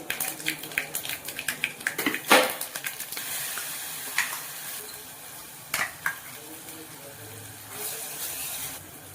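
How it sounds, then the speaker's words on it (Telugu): Cumin and spices for mango pickle tempering crackle and sizzle in hot oil with scattered popping bursts and occasional spoon scrapes against the pan, close by and moderately loud. "జీలకర్ర, పోపు అంతా వేసుకుని సరిపోతుంది."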